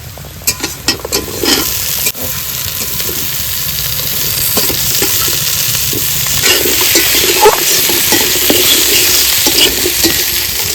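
Potatoes added to fried onions sizzle steadily in a pan while a ladle scrapes and stirs in repeated clacks, a close, continuous frying hiss throughout.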